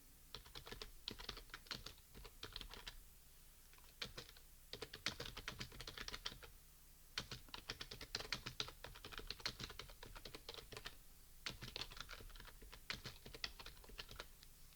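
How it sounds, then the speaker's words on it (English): Fast typing on a computer keyboard during entry of hospital medication orders, dense bursts of clicking keystrokes with short pauses, steady and fairly quiet, no voices. "we're going to be typing in"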